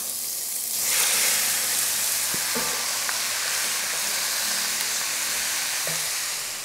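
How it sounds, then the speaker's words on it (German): Gyros meat searing in hot oil in a frying pan: a loud, steady, close sizzle swells in about a second after a quieter start and continues throughout, with occasional light clicks and scrapes of stirring and no talking. "damit wir auch das Fleisch schön anbraten können"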